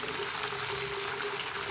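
Turmeric water added to raw banana chips frying in hot oil, a dense, even hiss and bubbling spatter that holds steady and close throughout the short moment.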